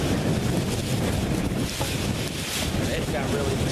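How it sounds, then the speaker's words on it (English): Steady wind roars across the microphone, a constant broadband rush with rumbling gusts, like open water on a blustery day. "it got really windy"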